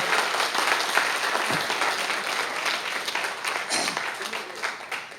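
Seminar audience applauding, a steady wash of many hands clapping at moderate distance, sustained throughout and gradually thinning toward the end.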